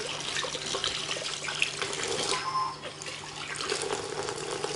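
Steady rushing and splashing of water from a brushless submersible 12V DC mini water pump running while dunked, a constant wash with a faint motor whine underneath and no talking.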